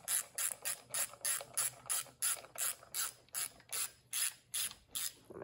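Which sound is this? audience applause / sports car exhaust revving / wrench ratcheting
wrench ratcheting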